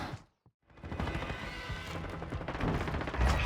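Bursts of automatic gunfire in the video game Call of Duty, loud and dense, following a brief silence and continuing as a sustained barrage.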